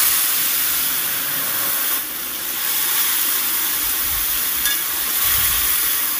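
A coriander leaf and green chili paste hits hot oil with black cumin, a broad steady hiss close by with a slight surge partway through.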